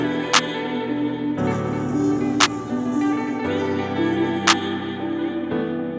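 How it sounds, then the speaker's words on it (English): Three sharp reverb-soaked claps land at even intervals over a sustained guitar and piano beat, each snap standing out clearly above the mellow chordal bed and trailing off in a brief ambient tail. "this clap right here. Ooh, with all that reverb, you hear that?"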